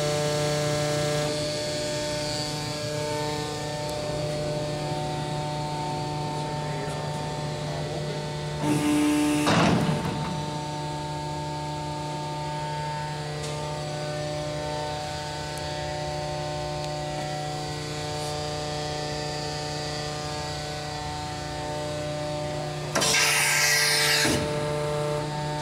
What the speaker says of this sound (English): it's a 10 foot by 3/8 Montgomery initial pinch type hydraulic bending roll